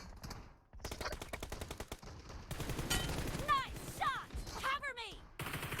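Video game gunfire: rapid automatic bursts of shots, fairly loud and continuous, with short gaps and a brief pause, and a voice talking over the shooting.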